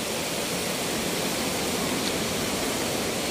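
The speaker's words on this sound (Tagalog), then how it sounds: "Yan na ba? Yan na yung falls." Ditumabo Mother Falls in Baler, Aurora pours in a steady, dense roar of falling water, even and unbroken throughout at close range.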